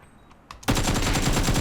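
Rapid automatic gunfire in a PC shooter game on an AMD Radeon RX 6750 XT: a couple of faint clicks, then a loud, sustained burst of dense machine-gun fire that runs to the end.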